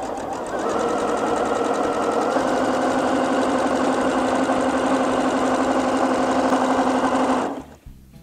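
A sewing machine runs a zigzag stitch as an edge finish on jersey knit fabric, a steady, loud mechanical whirr with rapid needle rhythm lasting about seven seconds before stopping abruptly.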